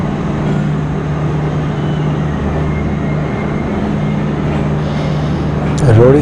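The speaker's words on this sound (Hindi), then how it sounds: "तो अब हम शूट कर रहे हैं रोडी जंक्शन से आहिस्ता आहिस्ता ट्रेन का डिपार्चर।" A train slowly pulling out of Rohri Junction in Pakistan, a steady low rumble and hum of rolling stock that holds for several seconds before growing louder near the end.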